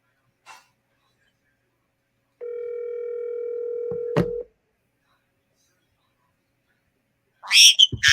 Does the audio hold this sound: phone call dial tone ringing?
yes